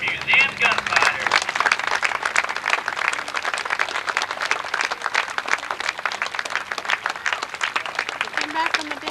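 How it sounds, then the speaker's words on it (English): A crowd gives a big round of applause for the Boone Hill Museum gunfighters at an outdoor Old West show in Dodge: dense, steady clapping from many hands that fills the whole stretch, with a voice faintly audible beneath it. "how about a big round of applause for the Boone Hill Museum gunfighters"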